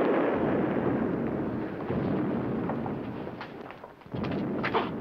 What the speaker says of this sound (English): Hear that, Dad? It's thunder.